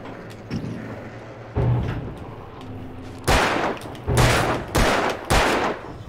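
Scattered gunfire from an action video game set in Bright Falls, with several loud, sharp bursts in the second half following a few quieter shots, no talking.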